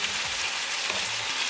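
Pork loin back ribs fry in a pan on a gas stove, just turned over, giving a steady, loud, dense sizzle that runs without a break and with no voices.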